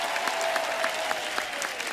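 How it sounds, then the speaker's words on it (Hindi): A studio audience at a comedy talk show applauds loudly, with dense clapping and a few crowd whoops spread across two seconds, no talk over it. "जोरदार तालियां शबीर साहब के लिए।"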